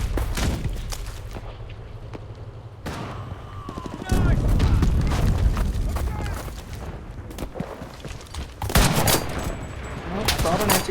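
Heavy gunfire and artillery in the World War II shooter game Enlisted: rapid rifle and machine-gun bursts over deep booming blasts, swelling into dense, loud volleys with a voice shouting in the mix.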